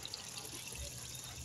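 A small amount of water pours into a tomato and spice mixture while cooking palak paneer, making a soft, steady trickle at low level for a second or two.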